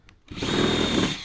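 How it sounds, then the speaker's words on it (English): A power drill reams out a hole in a shop-built projector mount, starting after a brief quiet moment and then running as a steady, loud, close grinding whir for about a second. "I just need to ream this hole out about the thickness of my head."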